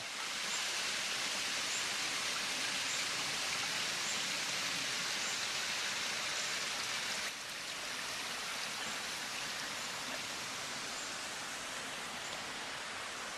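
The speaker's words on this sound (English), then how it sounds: "Just a nice little Bob Ross babbling brook." A small babbling brook at Harriman State Park, New York, gives a steady, close, broadband rush of running water that holds constant throughout, with no talk.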